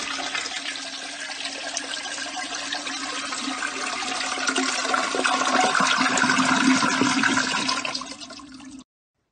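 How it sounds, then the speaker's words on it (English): A household toilet flushes up close, a loud rushing gush of water that builds over several seconds and then stops abruptly, with no voices. "you can keep your toilet clean every time you flush it."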